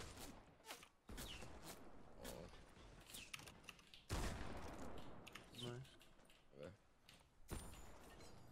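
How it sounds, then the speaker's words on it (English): Video game gunfire rattles in bursts of rapid shots with footstep-like clicks under heavy speech, and a louder volley lands partway through. "I'm getting shot from fucking people rotating."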